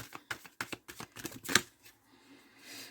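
Oracle cards being shuffled for a love reading, a run of quick papery riffles and taps with one sharper slap near the middle, then a softer rustle as the deck settles.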